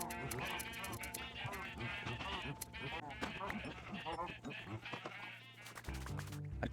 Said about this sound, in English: we actually need to start out by shearing the sheep